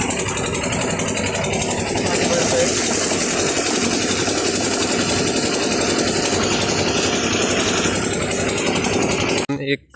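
A loud, steady water pump motor drawing from a river drones and rattles without pause, close by, then cuts off abruptly at the very end.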